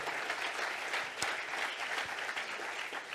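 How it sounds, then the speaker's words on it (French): Conference-session audience gives a modest, fairly distant round of applause, a continuous even patter of clapping from a seated room. "applaudissez-le, hein, bien sûr"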